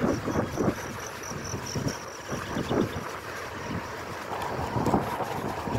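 Wind buffets the microphone with rumbling gusts during a bike ride, rising and falling throughout, loud and close, with a faint engine-like drone behind it.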